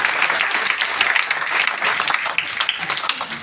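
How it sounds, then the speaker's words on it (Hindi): An audience at a business seminar bursts into loud, sustained applause, a dense wash of clapping that fills the whole moment. "जोरदार ताली आप सबके लिए।"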